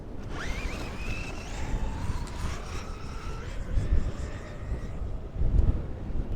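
A Traxxas Slash 4x4 RC truck's electric motor whines on sand dunes, its pitch climbing sharply as it accelerates, then holding a steady rising drone over heavy wind buffeting and rumble, with occasional low thumps.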